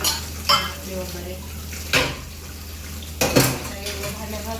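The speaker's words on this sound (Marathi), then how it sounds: "भांड्या घासून घेते मी पहिले आणि वट्टा साफ करते" Dishes, pots and utensils being washed in a home kitchen, with three sharp clatters of metal against metal over a low steady background and trickling water.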